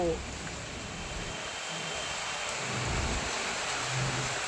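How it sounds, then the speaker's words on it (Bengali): Rain falling during a storm with strong gusting wind, heard outdoors by a road among trees: a steady, dense wash of rain noise with low rumbling wind throughout. "বৃষ্টি পড়ছে আর তার সাথে ছোড়ো হাওয়া দিয়েছে দেখো"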